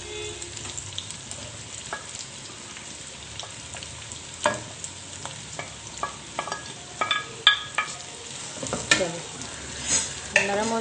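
Shredded cabbage and capsicum stir-fry in a pan for chicken manchurian, a soft continuous sizzle broken by frequent clinks and scrapes of a spatula that grow busier and louder toward the end, with no talking.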